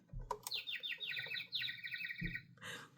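Quick series of bright bird chirps and trills, close and fairly soft, with a couple of low bumps and a final short chirp; no voices.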